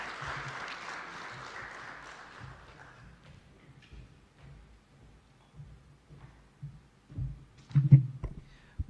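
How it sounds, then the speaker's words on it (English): An audience at a civil society forum in Uganda applauds for about three seconds. The clapping starts fairly loud, fades away, and gives way to a few low thumps and faint room noise. "please let's give him a big round of applause"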